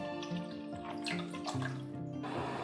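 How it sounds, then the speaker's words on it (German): 500 ml of water is poured into a cooking pot over sautéed scallion and ginger for Chinese pork in chili oil, a steady splashing, gurgling pour up close that ends abruptly. "500 ml Wasser hineingeben."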